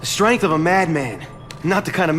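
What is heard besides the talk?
No everyday noise stands out behind the speech.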